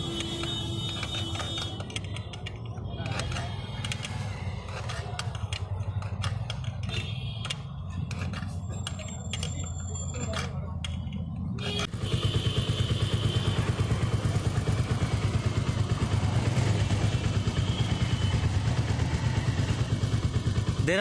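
A motorcycle engine idles with a steady mechanical clatter, then is revved hard to test an SCT smart chain tensioner. The note jumps to a loud, sustained roar that holds through the rest.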